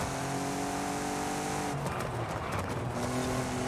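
Car braking hard to avoid a wall in Forza Horizon 5: a steady engine drone gives way to a broad tire-squeal hiss lasting a couple of seconds, loud and close, with no talking.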